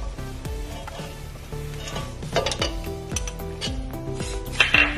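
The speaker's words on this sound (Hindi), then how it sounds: "ये फ्राई हो गई है सवैया अपनी।" Vermicelli (seviyan) fries in a pan for sheer khurma, with repeated metallic clinks and scrapes of a spoon stirring against the pan over a faint sizzle, close and uneven in rhythm.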